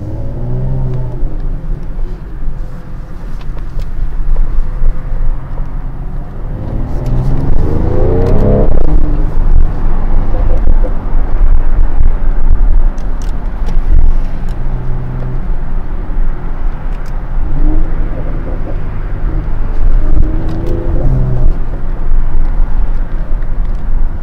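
A 2021 Mercedes-AMG GLE 63 Coupe engine rumbles loudly while driving, swelling as it accelerates and revs around the middle, then settling into a steady low drone.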